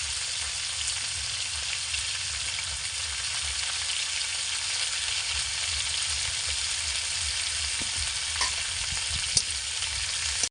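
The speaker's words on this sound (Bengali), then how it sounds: "গোটা জিরে, তেজপাতা, আর দিয়ে দিচ্ছি পেঁয়াজ কুচি।" Chopped onion fries in a kadai with whole cumin and bay leaf, a steady close sizzle that holds evenly throughout, with a few faint clicks near the end.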